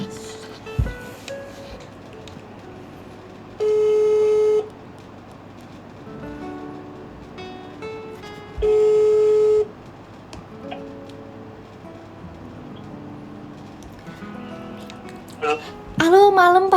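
A phone call being placed: two long, steady ringing tones about five seconds apart sound through the line over a quiet room, followed by a brief burst of higher electronic tones as the call connects.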